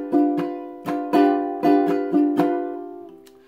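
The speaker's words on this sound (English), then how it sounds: "And then the next chord is the G seventh chord." G seventh chord strummed on a ukulele, about seven bright plucked strums in an even rhythm, each ringing and decaying, close and clear with no talk.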